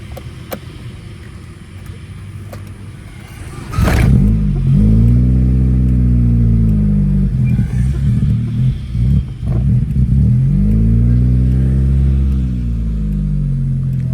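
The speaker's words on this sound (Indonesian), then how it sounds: "panasin mobil Grand Civic. Gasnya biasa dikocok dulu." An older Honda Grand Civic car engine warms up and is revved, starting from a steady idle before a sudden loud rise into repeated rising and falling revs that rumble close by, with no talking.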